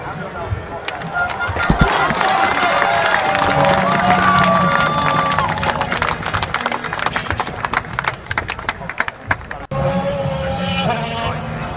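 Spectators clap and cheer at the 2014 Silverstone F1 Grand Prix as British drivers pass, a steady crowd roar mixed with passing race-car engines, with talk nearby.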